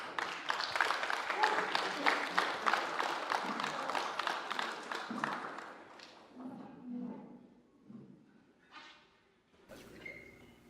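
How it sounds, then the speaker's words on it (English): Wedding guests give the best man a round of applause, a loud patter of clapping in a reception hall that fades after several seconds into scattered murmurs and movement. "Let's give him a nice round of applause as he makes his way on up there."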